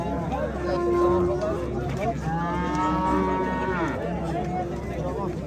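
Cattle and calves moo repeatedly at the Angren livestock market in Uzbekistan, long low bellows overlapping one another, while people talk steadily in the background of a busy, noisy crowd.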